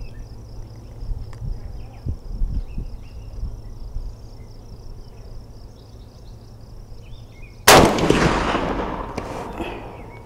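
A single loud, close .444 rifle shot rings out near the end while a new scope is being zeroed. Steady cricket chirping carries on outdoors before the shot.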